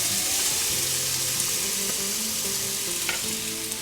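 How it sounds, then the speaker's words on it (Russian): Oil sizzles steadily in a hot pan as onions fry over high heat in a couple of spoons of vegetable oil, with a few scraping stirs and clinks over the constant crackle. "высыпаю лучок в сковороду"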